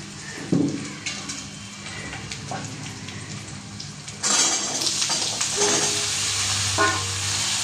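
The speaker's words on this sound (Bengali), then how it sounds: "পেঁয়াজটা ভাজা হয়ে গেলেই আমি সবজিটা দিয়ে দেবো" Chopped onion sizzles softly in oil in a pan; then cut vegetables are tipped in with a clatter, and the frying surges into a louder, fuller hiss with stirring scrapes close by.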